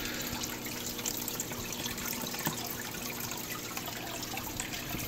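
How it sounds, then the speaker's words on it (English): A steady stream of water from an aquarium pump in a crab tank trickles and splashes continuously, close up and fairly loud, with no voices. "that is a really, really reduced amount of water flow"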